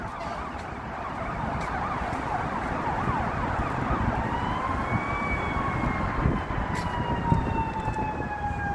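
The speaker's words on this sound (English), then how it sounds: "Comes some sirens." Wailing emergency vehicle sirens rise and fall on a Chicago street at noon in January, over a rushing roar of wind and waves breaking on the shore, with a second siren sweeping in partway through.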